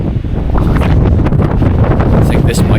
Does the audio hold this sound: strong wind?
yes